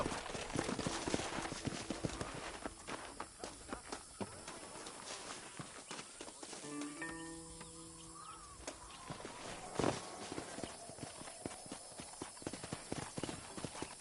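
Horse hooves clip-clop in the video game Red Dead Redemption, a steady run of close, crisp hoofbeats over game ambience, with a brief tonal musical or voice-like sound midway.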